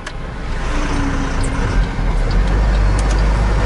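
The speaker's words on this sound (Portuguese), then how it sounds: "E a surpresa, olha, vinha um carro, ó." A car coming along the road after a bend, with steady loud road and engine rumble building slightly as it nears, and wind noise throughout.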